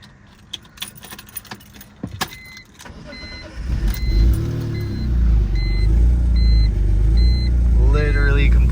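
Keys jangle and a door clunks before the engine of a BMW E46 M3, just back on the ground after rear differential bushing work, rumbles up loud and steady as it pulls away and drives, a brief voice heard over it.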